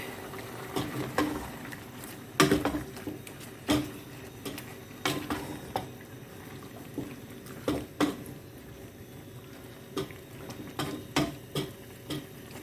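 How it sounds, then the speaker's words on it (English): A pot of Nigerian jollof rice being stirred gives repeated close scraping knocks and clicks over a soft bubbling simmer, with no voices. "I'm going to stir."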